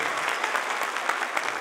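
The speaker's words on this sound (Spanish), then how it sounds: "Un aplauso de bienvenida" Welcoming applause from the crowd at the opening of an international dance festival in Samacá, a continuous, fairly quiet rain of clapping from a large audience with a few sharper claps standing out.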